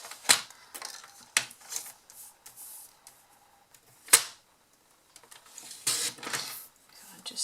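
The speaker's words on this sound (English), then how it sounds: "I'm just going to cut this bit down to size" A foil sheet is cut down to size for a papercraft box, giving irregular crisp snips and rustles with pauses between them, fairly close.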